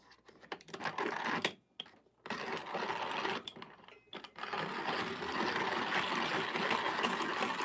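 Coffee is ground in a Fellow 58 mm flat burr grinder, a close mechanical whirring and crunching that stalls briefly twice early on, then settles into continuous grinding.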